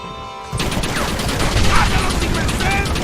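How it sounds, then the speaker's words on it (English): A sudden burst of heavy cannon fire in Red Dead Redemption starts abruptly and continues as a dense, loud barrage of booms and explosions. "Hurry, John! Use the cannon!"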